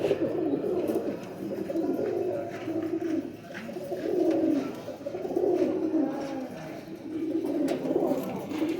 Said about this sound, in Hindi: प्रिंस कमंगर कबूतर है